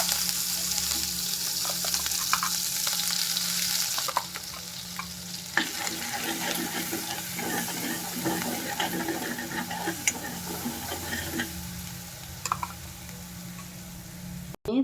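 Gravy sizzling and bubbling in a hot pan for paneer tikka, a steady close hiss with occasional stirring scrapes and clicks throughout, no talking.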